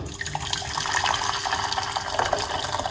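Hot water pouring steadily into a pot, a continuous splashing gush lasting a few seconds, close by with no talking.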